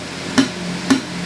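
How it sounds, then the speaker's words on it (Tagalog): Two sharp percussive guitar string slaps land about half a second apart, each a crisp thump, close and alone. "Ganyan yung tunog ng slap."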